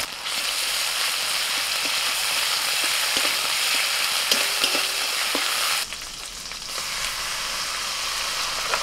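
Chopped tomato fries with ginger and green chili paste in hot oil, giving a steady, loud, close sizzle that continues throughout and eases slightly partway through.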